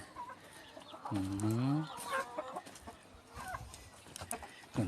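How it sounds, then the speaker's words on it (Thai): Village chickens, including gamecock roosters, cluck loudly and close by as they run over looking for food, with overlapping calls and busy background noise. "ไก่เต็มเลย"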